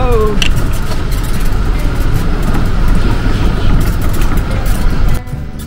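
Car driving on a road at the Marjan Island beach resort, a loud, constant rumble of engine and road noise heard from inside the vehicle, which drops off abruptly near the end.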